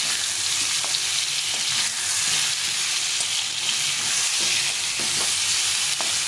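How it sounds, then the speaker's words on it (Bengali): Steady, close sizzle of frying in a pan while cooking hog plum pickle, with occasional soft stirring scrapes and no talking. "এই ভিতরে একটু হালকা করে ভেজে নেব।"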